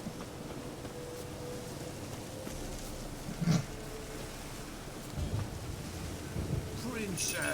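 Rain and rumbling thunder from a storm in the video game Witcher 3 fill the background with a steady wash of noise, a few low thunder swells, and brief bits of voice.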